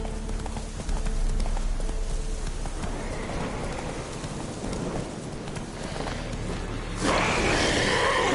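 Roach, the horse in the video game Witcher 3, gallops with steady rhythmic clip-clopping hooves under falling rain, with a low rumble of thunder and a brighter rush of rain swelling near the end.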